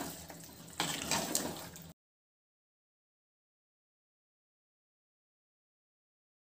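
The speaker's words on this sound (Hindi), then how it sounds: "अब मैं मसालों को धो करके थोड़े पानी दे दूंगी।" Water poured into a kadai of chicken and spices makes a short splashing gush lasting under two seconds, followed by silence.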